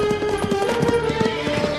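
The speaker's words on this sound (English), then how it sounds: "the horses refuse to move forward, as if they can sense something dangerous nearby" Horse hooves clop on the ground in a quick, uneven rhythm, with a high tonal hum running through the background.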